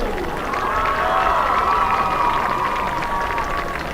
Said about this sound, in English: Now a nice round of applause for our senior cheerleaders.